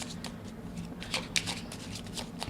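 Tarot cards shuffled by hand in a steady run of soft papery riffles and flicks, with a couple of sharper snaps midway, close and moderately quiet against a low background hum.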